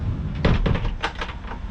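A small drawer in a tiny home slides open and shut, giving a few close, dull wooden knocks and thunks over about two seconds, with no voices.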